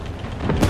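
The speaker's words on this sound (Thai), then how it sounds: "ดูระเบิด" A bomb detonates in the War Thunder combat game: a brief, close, low, heavy boom that swells and bursts at the very end.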